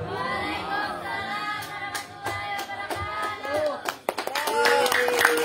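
Scattered hand claps ring out from an audience at a da'wah speech contest, sharp individual claps building toward the end while voices talk and a sung or drawn-out voice carries underneath.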